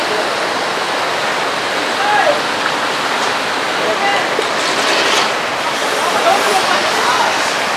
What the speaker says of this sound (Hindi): तो ऐसे ऐसे आप छोटे झरने बने हुए हैं जहाँ पर आके आप अपना नहा सकते हैं।